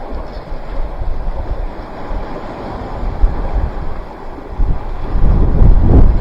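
Gusty wind buffeting the microphone at a coastal rock fishing mark, with waves washing on the shore, swelling and easing, then growing louder toward the end; no talking.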